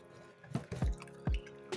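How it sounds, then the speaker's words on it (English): Braided hair extensions set on bending rollers are dipped into water, giving a few soft splashy drips and liquid plops spread over a couple of seconds, quiet and close with no talking. "So you dip it into water"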